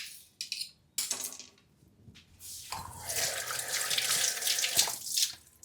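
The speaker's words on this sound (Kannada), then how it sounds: "ಈರುಳ್ಳಿನೂ ತೊಳಿಬೇಕು ಚೆನ್ನಾಗಿ" Tap water runs into a sink while onions are washed by hand, with splashing and trickling that swells louder in the second half, broken by brief clinks and pauses.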